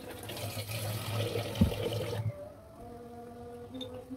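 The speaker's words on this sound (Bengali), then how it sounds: "পুড়ে না যায় যেন পানি দিয়ে দিলাম।" Water poured into a cooking pot of spiced goat meat with ginger, garlic and chili, a steady close splashing pour that stops abruptly halfway, followed by quieter kitchen sounds.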